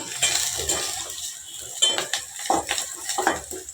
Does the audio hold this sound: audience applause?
no